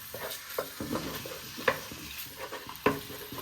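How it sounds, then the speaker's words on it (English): Steady sizzling of chicken frying in a pan, with repeated scrapes and knocks of a wooden spoon stirring, a couple of louder clacks. "And you want to fry them"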